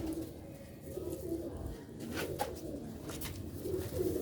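Sialkot pigeons of an old original breed with green pearl eyes coo softly in low, repeated rolling phrases, faint and moderately close, with some light background rustle.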